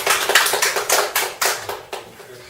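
A small group in a Korean medicine clinic lecture room claps in a brisk, slightly uneven burst of about a dozen claps that thins toward the end, close and fairly loud with no talking.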